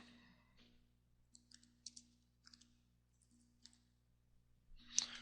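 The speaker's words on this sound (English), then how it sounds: "the only reason I'm typing in the numbers there" Light clicks of keys being typed come in short bursts with pauses between them, quiet and close, ending with a louder rustle.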